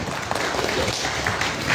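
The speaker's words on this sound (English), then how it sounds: "Please, can we give him a round of applause?" Dense, steady applause from a lecture audience, a continuous wash of many hands clapping at once, fairly loud and sustained throughout.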